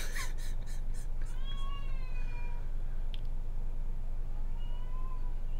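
A cat meows twice, a drawn-out rising call followed a few seconds later by a shorter one, both fairly close over a steady low background hum.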